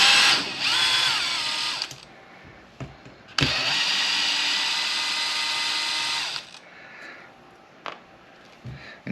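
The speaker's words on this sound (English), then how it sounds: "So we're going to go ahead and take out the screws for that." Power driver spinning screws out of an Arrma Typhon RC car, with two long, loud, high whirring runs close up, separated and followed by short clicks and handling noises.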